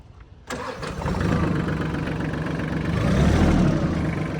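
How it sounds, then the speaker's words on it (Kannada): A remote-control Massey Ferguson 6028 Maxpro mini tractor's small engine cranks with a sharp start, then settles into a steady, close chugging idle that grows slightly louder. "ಇದು ಅನ್ಲಾಕ್ ಮಾಡಿದ್ರೆ ಈ ಗಾಡಿ ಆರಾಮಾಗಿ ಸ್ಟಾರ್ಟ್ ಆಗುತ್ತೆ"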